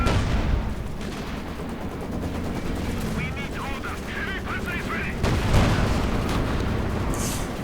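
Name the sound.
Sturmpanzer IV firing a volley in video game Company of Heroes 2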